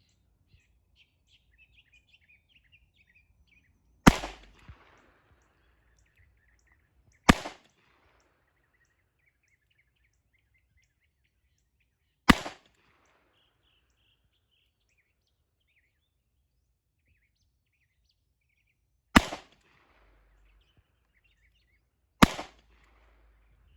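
Five loud, sharp shots from a nickel-plated Smith & Wesson Model 28 Highway Patrolman .357 Magnum revolver, fired singly at uneven intervals a few seconds apart, with faint birds chirping in the quiet between reports.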